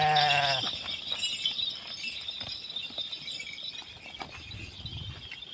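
A single loud bleat from a pregnant ewe in a village flock opens, close and wavering, followed by quieter shuffling and rustling noise.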